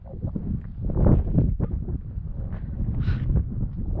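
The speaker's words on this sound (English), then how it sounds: "Surprisingly windy down here too, considering I'm inside of a coliseum" Wind blowing inside a volcano crater buffets the microphone in uneven low gusts, rising and falling throughout with a few rustling bursts.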